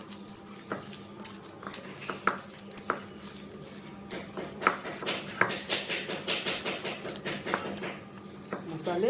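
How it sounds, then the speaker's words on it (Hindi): Chopped green chili and coriander stuffing for parwal is mixed by hand in a bowl, making a run of soft, close rustling and squishing sounds with scattered light clinks, growing busier toward the end. "इन सबको अच्छी तरह से हाथों से मिक्स कर लेती हूँ"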